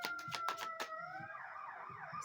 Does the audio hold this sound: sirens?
yes